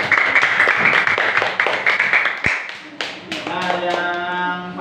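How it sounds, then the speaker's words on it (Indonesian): A classroom full of people claps in a burst of applause for a student group, loud and close, fading as a voice and a ringing tone take over. "berikan tepuk tangan untuk kelompok pertama semua"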